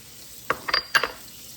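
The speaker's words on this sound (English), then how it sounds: "So I'm going to start with my onions that I've chopped up. So we're going to throw some onions in there." Chopped onions hitting a hot pan for pumpkin risotto give a few brief sizzling, stirring rustles over a faint steady hiss, close and short.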